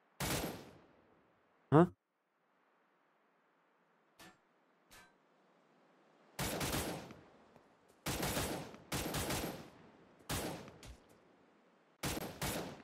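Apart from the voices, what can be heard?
weapon gunfire in the video game Cyber Hunter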